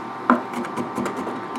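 A knife chopping and crushing garlic on a wooden cutting board, giving one sharp knock followed by soft repeated scraping, rocking taps close by in a quiet kitchen.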